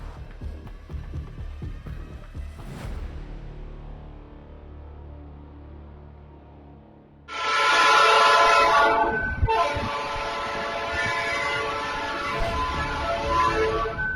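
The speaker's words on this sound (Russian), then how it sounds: "В бразильском городе Итарапина поезд снес пикап Ford Ranger" A train rumbles past at a level crossing in Itarapina, Brazil, then a loud horn blares in long sustained blasts close by, over steady rolling rail noise.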